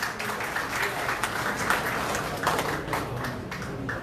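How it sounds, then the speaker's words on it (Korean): Crowd applause at a Korean political party's provincial chapter ceremony during the presentation of appointment certificates, a continuous clapping texture from the audience with some voices underneath. "큰 박수 부탁드립니다."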